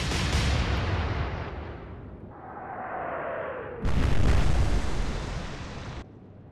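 Heavy battleship guns fire in the naval game Atlantic Fleet, giving a loud booming blast that rumbles away, then a second powerful salvo roaring for a couple of seconds before cutting off.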